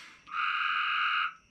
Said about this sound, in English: The frog agrees with me